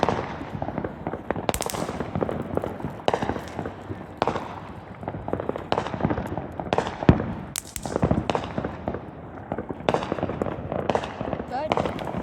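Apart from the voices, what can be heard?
fireworks exploding around the neighborhood on 4th of July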